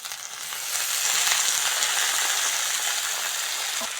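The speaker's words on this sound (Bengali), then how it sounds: "পেঁয়াজ আর কাঁচা লঙ্কাটা ভালো করে ভেজে নিয়েছি সেদ্ধ করে রাখা কচু পাতা দিয়ে দেবো" Onion and green chilli frying with boiled taro leaves for a Bengali taro leaf bharta, a steady broad sizzle that holds at an even loudness, close up, with no talking.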